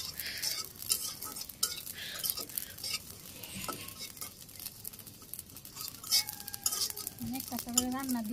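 Whole cumin seeds stirred and dry-roasted in a pan over a stove, a continuous close scraping and rustling with faint crackle that runs unbroken through the whole stretch.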